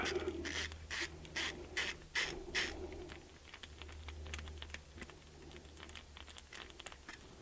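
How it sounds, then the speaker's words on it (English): A screwdriver removes two small screws from the voltage regulator on a Mercedes ML320 alternator, giving quiet ratcheting clicks and light metallic taps, close and faint. "Just 2 screws. Remove them."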